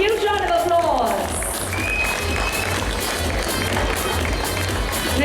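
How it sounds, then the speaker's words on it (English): An audience at a design industry showcase valedictory event applauds and cheers to welcome committee members on stage, continuous crowd noise with rumbling low background and voices mixed in. "Come on, ladies and gentlemen, huge round of applause."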